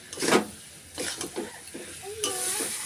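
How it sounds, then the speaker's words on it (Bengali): Fried potatoes are stirred into a soybean curry masala in a pan, giving soft scraping stirs and a light sizzle at low volume, with brief utensil clinks. "এইবার দিয়ে দেবো ভেজে রাখা যে আলু আর গুলো দিয়ে এর সাথে ভালো করে কষাবো"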